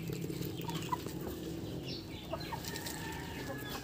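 Breeder hens and a rooster cluck close by on a farm during egg collection, with soft, irregular clucks over steady background noise.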